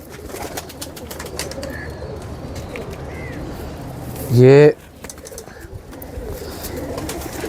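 Kamagar and Teddy pigeons kept for breeding give one loud, close, throaty coo partway through, amid quieter background chirps, while someone talks in short bursts.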